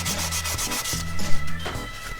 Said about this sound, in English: So you want to sand those dings down